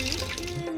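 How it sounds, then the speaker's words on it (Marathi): Water running into a motor pump while it is being filled, a soft trickling, gurgling flow with faint tonal hum underneath, quiet and fairly distant. "बघू पाणी कसं भरतं मोटरीमध्ये."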